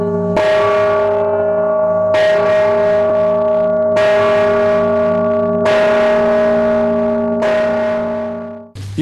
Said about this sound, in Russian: И вот уже сегодня в микрорайоне «Перспективный» слышны первые прекрасные звуки этого колокола.